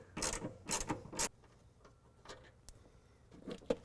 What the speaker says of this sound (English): with a 10 millimeter, we're going to remove the bolt that holds the negative terminal or the negative cable